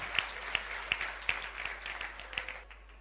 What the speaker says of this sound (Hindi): सभी के सम्मान में संयुक्त रूप से जोरदार तालियां, अनुमोदना।